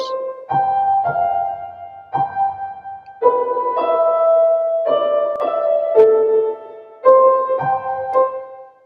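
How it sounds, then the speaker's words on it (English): A piano drenched in heavy reverb plays a slow sequence of held notes and chords, each tone ringing on and blurring into the next, with no voices. "So you can hear a high amount of reverb on that piano."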